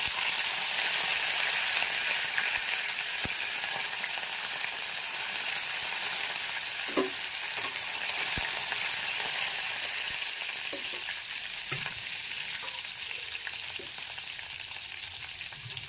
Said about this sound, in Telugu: ఇప్పుడు ఇందులో పచ్చిమిరపకాయలు ఎండుమిరపకాయలు కూడా వేసుకుందాం